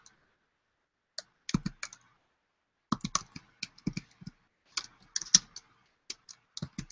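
A title being typed on a computer keyboard, close and crisp key clicks in short irregular bursts separated by brief pauses.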